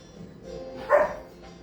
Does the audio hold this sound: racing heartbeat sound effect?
no